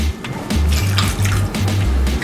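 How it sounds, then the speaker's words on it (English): Water pours into a cooking pot over chunks of pumpkin and potatoes, a continuous splashing gush with a low gurgling rhythm, close and alone. "1 cup of water on top of the pumpkins and potatoes."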